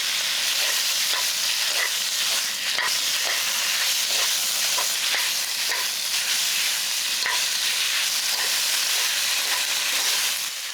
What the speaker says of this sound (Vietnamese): Tiếp tục mình cho thịt bò đã ướp vào xào trên lửa lớn.